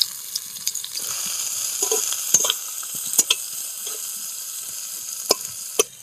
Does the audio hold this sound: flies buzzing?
no